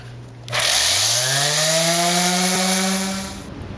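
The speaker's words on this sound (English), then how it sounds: "I'm gonna take my sander with some coarse grit sandpaper, and I'm just gonna hit those areas again one more time just to make sure all the glue gets removed" Electric sander fitted with coarse grit sandpaper grinding leftover glue off an indoor concrete slab, a loud steady whine that rises in pitch as it spins up, then runs continuously for about three seconds before easing off.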